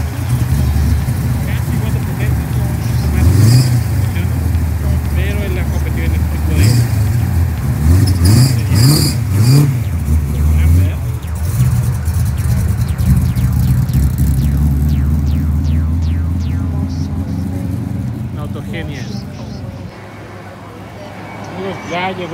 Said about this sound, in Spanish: Llegó ahorita el auto después de unas vueltas.